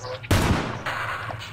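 A sudden loud burst of gunfire erupts in an SCP roleplay video game, a sharp blast followed by a rapid rattling volley that trails off over about a second.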